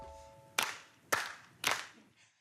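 Hands clap three times in an even, deliberate rhythm during a children's body-parts song, each clap sharp and close with short pauses between.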